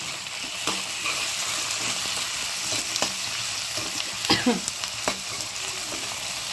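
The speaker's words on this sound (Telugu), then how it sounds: "ఇలా నేను ఒక 2 టమాటోలు పెద్ద పెద్ద వేసేసుకున్నాను. ఇలా కలిపేసుకోవాలి." Two large tomatoes hit hot oil in a pan for a home-cooked curry, sizzling steadily while a spoon stirs them, with a few clear scrapes and clanks against the pan over the constant fry.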